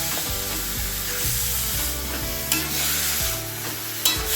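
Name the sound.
stirring taro stalks with spices in a pan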